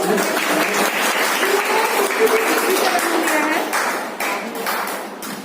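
A school felicitation ceremony crowd claps loudly for a class 12 topper student, a steady wash of applause that thins toward the end, with faint voices underneath.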